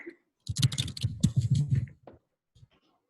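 Rapid bursts of clicking keys on a computer keyboard: a busy run lasting about a second and a half, then a single faint tap after a pause, fairly close and with no talking.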